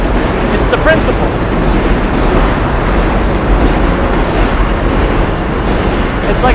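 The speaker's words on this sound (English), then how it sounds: "that sound the M train is making right now" An NYC M subway train rumbles past in a loud, continuous roar of rail noise and wind that holds steady throughout, with no clear breaks.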